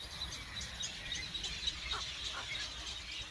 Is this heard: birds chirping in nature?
yes